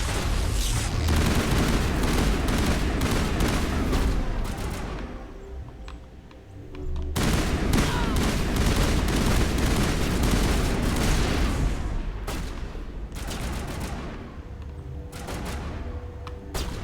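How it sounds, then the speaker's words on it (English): Gunfire in the Mass Effect video game rattles in dense, rapid bursts of shots, loud and sustained, dropping briefly around the middle before the volleys resume at full intensity. "you guys are shooting at me"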